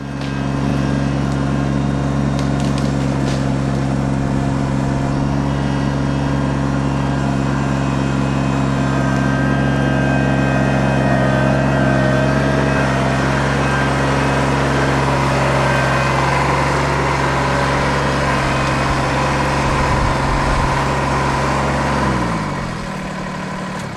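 A small tractor's diesel engine runs steadily under load while lifting a tree on a property, a loud continuous low drone with a deep rumble that holds for over twenty seconds before the revs drop away at the end.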